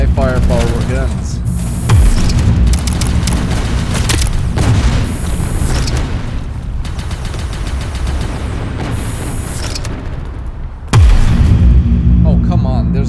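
Rapid heavy gunfire and booming blasts from high-firepower guns in the video game Sector's Edge, loud and nearly continuous over several seconds, with dense bursts and a couple of deep booms.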